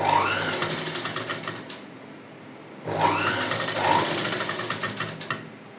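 Sewing machine stitching piping onto a blouse in boutique style, two bursts of fast running stitches split by a short pause, close and fairly loud.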